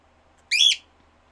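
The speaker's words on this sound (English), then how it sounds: "Please, stop screaming." A pet bird gives one brief, shrill, piercing scream-like whistle, close and loud, alone in an otherwise quiet room.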